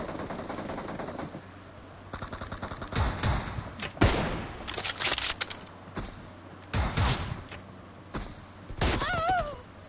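Gunfire in the BGMI battle royale game: bursts of rapid automatic shots and sharp single sniper cracks, loud and spaced across several volleys.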